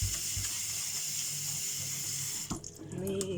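Water runs steadily from a tap into a sink as something is rinsed, with a brief clatter and splash near the end.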